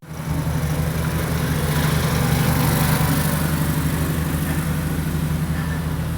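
Small engine of a Toro Sandpro 14 bunker rake idling steadily after repair with fresh oil, plugs and an adjusted carburetor, a close, even, continuous low drone with a regular pulse throughout.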